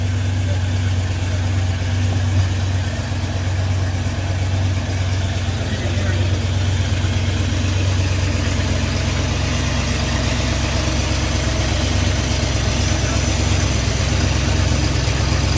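The carbureted engine of a 1974 Dodge 200 Max Van idles close by with a loud, steady low rumble and a faint pulsing throb that runs unbroken throughout.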